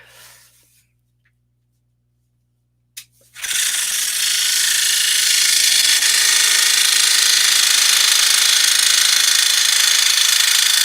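After a near-silent start and a short click, a scroll saw starts up and runs steadily, a loud buzzing chatter with bright rattling texture as it vibrates on its table.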